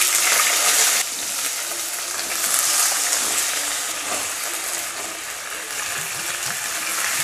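Potatoes dropped into hot oil with whole cumin and a pinch of asafoetida, a loud sudden sizzle and crackle that settles into steady frying hiss with faint stirring clinks.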